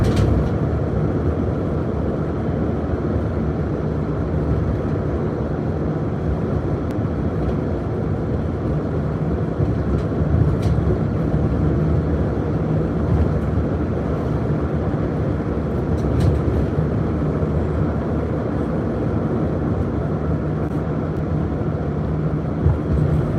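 A train rumbles past on nearby tracks in a dense, continuous low roar that holds steady and loud throughout, with faint clicks on top and no voices.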